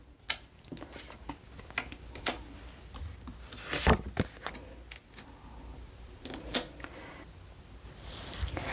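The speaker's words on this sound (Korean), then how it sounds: "카드를 이쪽으로 옮길게요" Tarot cards slid and tapped across a table during a reading, giving scattered soft clicks, rustles and scrapes close up with one louder shuffle midway, and no voice.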